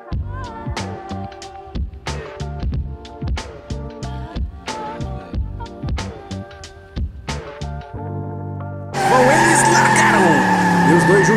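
Hot Wheels toy race cars drifting on a track throw out a run of short, sharp tire squeals and skids in quick succession, then a louder sustained screech near the end, mixed with excited commentary.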